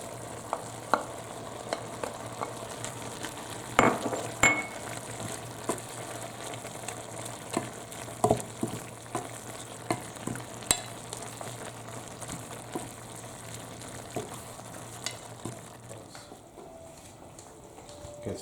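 Mutton curry with ginger sizzles and fries steadily in a pan, with scattered soft clicks and stirring knocks through a constant frying hiss, no talking.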